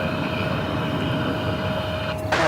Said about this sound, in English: And there goes American Flight 420